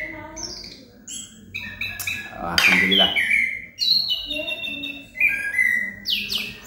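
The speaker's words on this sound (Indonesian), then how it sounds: "sambil mendengarkan kicauan anis kembang kawan." An orange-headed thrush sings close by in varied whistled phrases, rich trills and bright rising notes with short pauses, while someone speaks briefly over the song.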